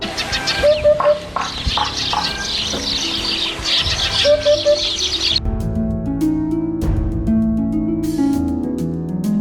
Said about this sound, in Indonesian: Nama hudhud sendiri diambil dari bahasa Arab yang diberikan karena suaranya melengking seakan berkata hudhud.